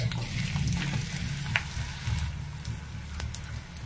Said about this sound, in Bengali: পেঁয়াজ মরিচটাকে একটু ভেজে নেব প্রথমে।